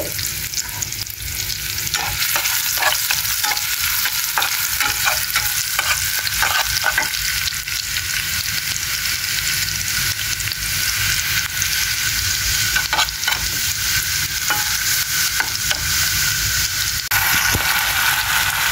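Tomato bhaji frying in a generous amount of oil with steady, continuous sizzling, and repeated scraping stirs of a spatula through the pan; a close, fairly loud kitchen sound with no talking.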